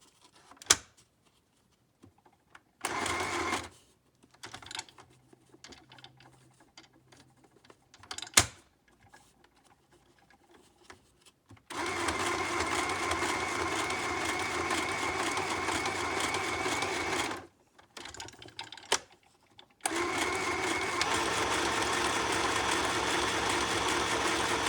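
A sewing machine stitches a paper heart onto a junk journal made from an A7 envelope, running in two long steady bursts after some short starts, handling clicks and brief stops.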